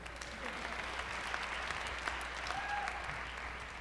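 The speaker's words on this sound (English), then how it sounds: "Give yourselves a round of applause." An audience claps for a pair of game winners at a seminar, a steady wash of applause holding at an even level from start to finish, with voices faintly audible underneath.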